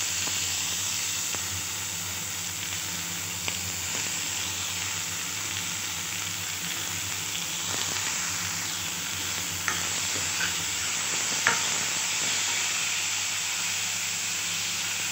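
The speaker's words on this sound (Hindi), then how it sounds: "अब इसमें हम टमाटो डालेंगे।" Tomatoes frying and sizzling in a pan with browned garlic and onion while being stirred, a steady close hiss with occasional scraping clicks, no talking.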